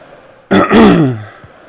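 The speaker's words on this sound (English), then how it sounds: "So my apologies for my cough" A single loud, close cough, short and throaty like a throat clearing, sounds alone in an otherwise quiet moment.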